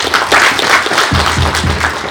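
An audience at an awards ceremony breaks into applause, a dense run of hand claps close by with sharp individual claps rising above the crowd toward the end.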